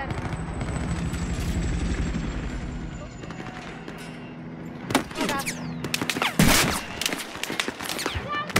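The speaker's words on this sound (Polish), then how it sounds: "Widzę helikopter." A helicopter sounds in a Battlefield 4 battle with a steady rotor drone, then sharp bursts of gunfire and loud impacts break in over the second half, with no clear talk.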